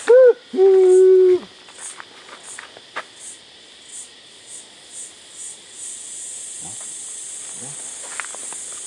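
Outdoors, cicadas drone in a steady high buzz that swells and grows continuous, with scattered faint bird chirps and a brief sung voice at the start.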